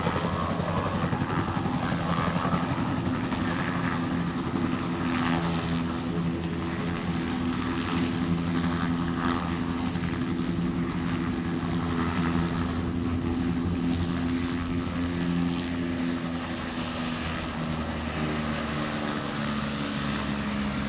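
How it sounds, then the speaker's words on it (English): Harris County Sheriff's Office helicopter setting down in front of a fire station, its rotor and engine a steady, loud, close drone throughout with no talking. "A sheriff's helicopter is about to land over here in front of the fire station."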